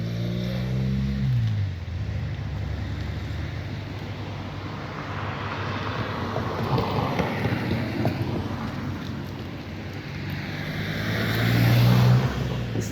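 A car cruises along a highway near Louis-Lewin-Straße in Hönow, with a steady broadband rush of road and wind noise that swells louder toward the end. No voices are heard.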